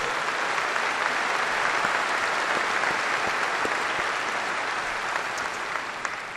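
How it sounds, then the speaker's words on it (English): Sustained crowd applause fills a large NRA convention hall, a dense, steady wash of many clapping hands at close range that holds evenly throughout without any talking over it. "So give yourselves a round of applause for all you do for the ideals we"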